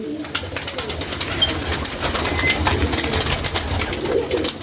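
Pigeons coo on a rooftop, with low throaty calls repeating over steady background noise and clicks, fairly close and continuous.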